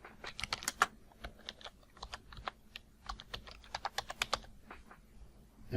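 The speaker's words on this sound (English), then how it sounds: "wants us to type in Star Publishing" Quick, light keystrokes on a computer keyboard tap out a short phrase, close and quiet, in an uneven patter of clicks with small gaps.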